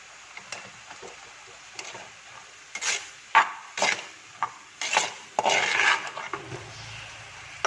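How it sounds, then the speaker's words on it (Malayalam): Onions with salt being sautéed in a pan for a homestyle Kerala chicken curry: intermittent scraping and clinking of a utensil against the pan, with a few louder stirs and a faint sizzle underneath. No one speaks. "അപ്പം ഇനി നന്നായിട്ട് അങ്ങ് വഴറ്റി കൊടുക്കുക."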